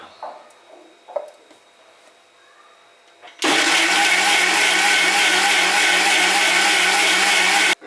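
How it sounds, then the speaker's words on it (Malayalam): A mixer grinder blends fresh strawberries and sugar into a strawberry milkshake: after quiet handling sounds, the motor kicks in loud and close with a steady, dense whirring roar that holds for about four seconds and then cuts off. "ഇനി ഇത് നമുക്ക് നല്ല ഫൈനായിട്ട് മിക്സിയിലിട്ടൊന്ന് അടിച്ചെടുക്കണം."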